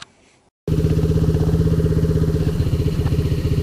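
A Coolster Mountop 125 ATV engine, recently repaired starter chain, runs after a short quiet start: a loud, close, steady buzzing putter with rapid regular pulses, holding steady with slight changes in speed.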